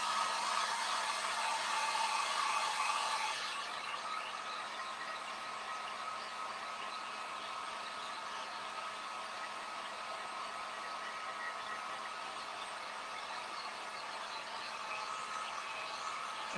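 A hair dryer blows on hair with a steady, loud whooshing whir that drops to a lower, softer setting after a few seconds and then runs on evenly, with no talk.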